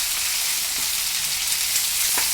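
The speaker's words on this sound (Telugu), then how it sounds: "సిమ్లో పెట్టుకుని వేపుకుంటూ ఉండాలండి." Okra frying in a pan with tempering spices, stirred over low heat with the lid off: a continuous, close, even sizzle with faint scrapes of stirring and no talk.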